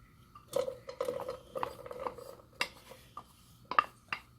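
A whole large chopped onion is dumped from a bowl into a saucepan with butter for keto broccoli soup, giving a close run of clattering knocks and scrapes in uneven bursts, with no talking.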